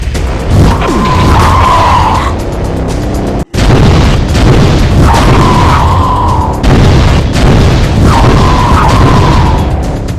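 A Mancubus variant in a Doom mod fires volley after volley of heavy projectiles, three loud booming bursts with whooshing launches and a rumbling roar, joined by a droning tone and dense, near-constant game noise.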